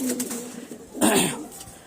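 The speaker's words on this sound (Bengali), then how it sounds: "এখন আরেকটা পায়রা নিয়ে এসেছি, তার সাথেই জোড়া বসাবো।" A pigeon gives a soft, throaty coo close by, brief and low, over faint background noise.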